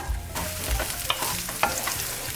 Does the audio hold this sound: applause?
no